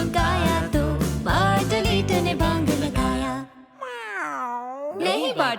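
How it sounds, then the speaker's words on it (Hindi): A cat meow sung within a Hindi children's nursery rhyme about farm animals, where a melodic sung line with backing music gives way to a rising and falling meow-like vocal before the music resumes. "बार्टोलीटो वो एक बिल्ली है।"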